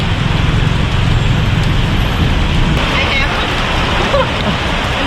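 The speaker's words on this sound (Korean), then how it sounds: "비가 와서 갈 수가 없네" Steady, heavy rain pours down continuously at a bus stop on a Southeast Asian border trip, a dense close hiss with faint traffic and voices mixed in.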